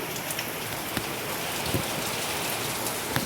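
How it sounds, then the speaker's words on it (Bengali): Steady rain pours down with a dense, even hiss of drops striking surfaces nearby, a few sharper drips standing out, with no voices. "বৃষ্টি করছে কীরকম"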